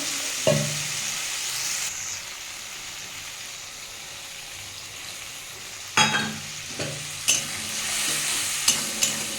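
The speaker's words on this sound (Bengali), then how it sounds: "এটাকে আবার একটু কষিয়ে নেবো ভালো করে" Tomato and ground spice paste with a splash of water frying in a pan for a fish and pointed gourd curry, a steady low sizzle interrupted by a few clustered spatula scrapes and knocks, close and without talk.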